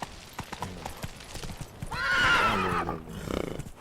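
A horse gallops in The Witcher 3, its hoofbeats clip-clopping in a steady rhythm before a loud neigh and whinny rises over them, then fades into more hooves.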